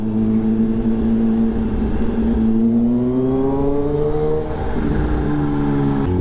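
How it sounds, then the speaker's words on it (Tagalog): A Kawasaki Z H2 inline-four motorcycle engine hums steadily and rises in pitch as it revs through the gears, loud and close, with a smooth whining tone and no talking. "ramdam na ramdam mo yung inline 4. Iba kasi yung tunog niya, talagang gumuguhit at humuhuni"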